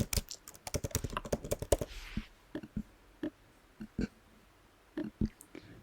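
Someone types a heading on a computer keyboard: a rapid run of close, crisp keystrokes at first, then slower, spaced-out clicks with quiet gaps, and no talking.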